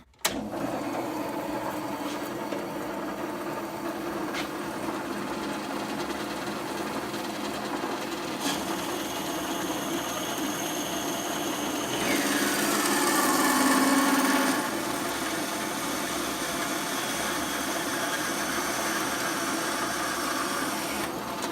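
A DoALL C-4 bandsaw cuts a small metal piece clamped in its vise, giving a steady, moderately quiet mechanical whine and hum. The tone swells and shifts briefly partway through the cut, then settles back.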